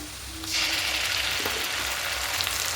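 Ginger, green chili and garlic paste hits hot oil for a fish kalia, bursting into a loud, steady sizzle after a brief quiet start, with faint stirring scrapes.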